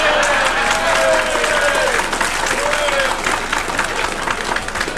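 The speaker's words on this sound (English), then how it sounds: "We'll just record the applause and leave the song." A studio audience at a 1968 recording claps loudly and continuously, a dense wash of applause with crowd noise that fills the whole stretch.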